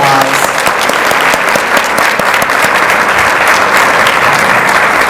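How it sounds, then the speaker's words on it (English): An audience at an installation ceremony claps loudly and continuously, a dense crowd applause sustained from start to finish with no speech on top. "Let's give them a big round of applause."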